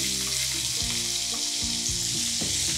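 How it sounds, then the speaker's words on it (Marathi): Chopped onion fries in hot oil with garlic in a Maharashtrian kitchen, a steady close sizzle with soft stirring scrapes and spoon knocks, no voices. "आणि कांदाही हलकासा सोनेरी रंगावर परतून घेऊयात"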